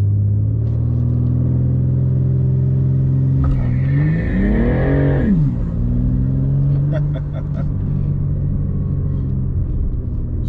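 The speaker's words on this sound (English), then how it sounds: "So it definitely will let you activate launch control in second gear" A BMW G80 engine revs on launch control in second gear, a loud close rumble that climbs to a held high rev, drops back, and then returns to a steady idle.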